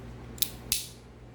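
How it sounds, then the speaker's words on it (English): Leatherman Free P4 multitool scissors snap shut twice in quick, sharp metallic snips, close by in a quiet room. "and then you got your scissors on this side"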